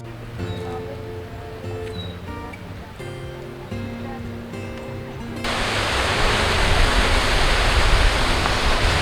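Broad steady rush of a small nameless waterfall pouring out between rocks on a nature walk, rising to a louder close roar partway through after a stretch of distant hum and faint tones.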